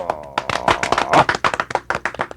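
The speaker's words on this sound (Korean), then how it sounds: "자, 짐승들아, 박쥐도 우리 편이다. 자, 박수." A small group clapping in quick, uneven bursts, close and lively, lasting a couple of seconds.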